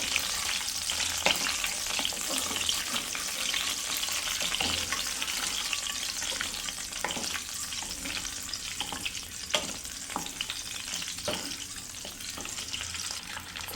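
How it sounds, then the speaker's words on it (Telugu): Eggs frying in a pan for a tomato and egg curry, a dense continuous sizzle up close with occasional clicks and scrapes of a spatula stirring. "సో ఎగ్స్ అయితే ఫ్రై చేసుకుంటున్నాను"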